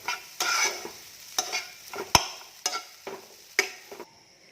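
Spices for homemade tomato sauce frying in a pan, with a spoon scraping through them in separate strokes and a faint sizzle underneath, close and fairly quiet, no voices.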